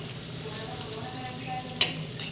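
Green moong dal vadas fry in hot oil with a steady, soft sizzle and crackle throughout, quiet and close, broken by one brief metallic clink near the end.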